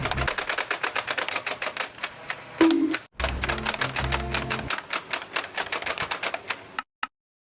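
A Nerf Ultra 1 blaster shoots its special darts in a fast run of sharp, evenly spaced mechanical clacks, loud and close, with a brief heavier burst partway through and a short pause before the rapid firing resumes and stops.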